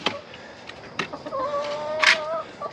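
Hens on a small farm cluck and squawk near the listener, a run of short calls building into a longer, rising squawk, with a few sharp outbursts and no talk.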